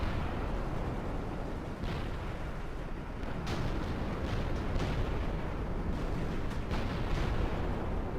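Sustained roar of AI teammates' gunfire and explosions in War Thunder, dense and continuous, with occasional sharper bursts and booms rising out of the rumbling battle din.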